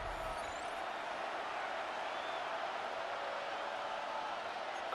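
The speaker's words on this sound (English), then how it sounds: "Crowd is loud." Crowd noise in the Madden NFL football video game during a Las Vegas Raiders franchise game against the Bills, a steady, even roar of a stadium crowd filling the whole stretch with no break.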